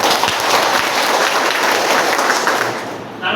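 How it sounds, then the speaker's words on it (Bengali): A business seminar audience breaks into loud, sustained applause that holds steady across the room, then drops off abruptly at the end. "একটা করতালি দরকার ছিল না?"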